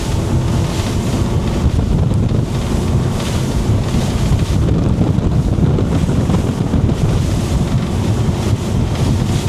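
A Sea Ray 270 boat with a single outboard motor cruising out into Tampa Bay, a loud steady roar of engine, water rush and heavy wind buffeting the microphone, continuous with no talk.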